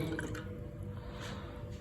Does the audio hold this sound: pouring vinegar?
yes